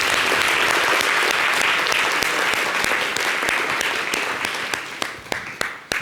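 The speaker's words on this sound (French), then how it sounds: "Merci d'applaudir." An audience applauds after a bel canto singing performance with keyboard accompaniment. The clapping is full and sustained at first, then thins out into scattered individual claps as it fades.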